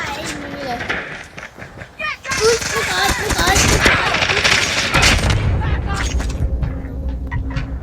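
Rapid gunfire from a gun in a Call of Duty video game, bursts of loud shots over game sounds, with a person talking throughout.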